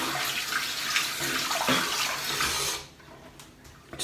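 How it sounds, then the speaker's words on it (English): A bathroom tap runs in a steady loud stream into the sink during a wet shave with a custom razor, then cuts off abruptly near the end, leaving near silence with a few small drips and clinks. "Add more water to slicken it up."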